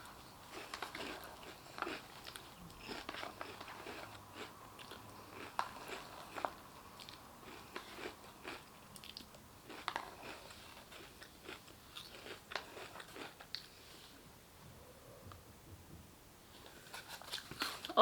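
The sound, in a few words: eating crunchy Halloween cereal from a bowl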